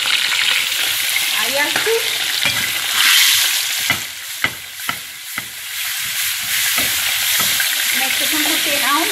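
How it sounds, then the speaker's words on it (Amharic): Garlic fries in a pan with a loud, bright sizzle, punctuated by a few sharp utensil taps, while a person speaks briefly. "ነጭ ሽንኩርቴን አሁን ጠብሰዋለሁ ማለት ነው።"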